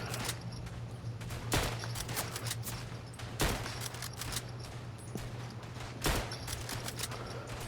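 Gunfire in the World War I shooter Verdun, fighting as a US Doughboy rifleman: several sharp, loud shots burst out at irregular intervals over a steady low hum and constant crackling battle noise.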